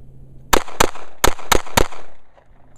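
Five rapid gunshots from a Kahr CW45 .45 ACP pistol firing hand loads, sharp loud cracks in two quick bursts of two and three, each with a short echoing tail, near and without speech.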